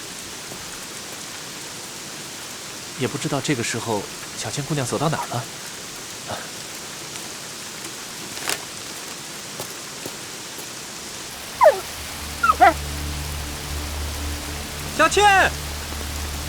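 Steady rain falls in a Chinese xianxia TV drama scene, a soft, constant hiss under a voice that speaks and calls out several times.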